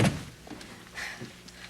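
A door closes with a quick thunk at the start, followed by faint rustling and muffled movement in an indoor room, with no talking.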